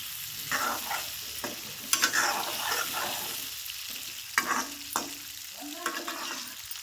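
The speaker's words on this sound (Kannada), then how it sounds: "ಈಗ ನೋಡ್ರಿ ಎಣ್ಣೆ ಒಳಗೆ ಇವಾಗ ಬದನೆಕಾಯಿ ಎಲ್ಲ ಫ್ರೈ ಅದ ನೋಡ್ರಿ" Brinjal pieces fry in hot oil in a pan, a steady sizzle broken by scraping stirs and sharp clanks of a utensil against the pan at irregular intervals, close up with no talking.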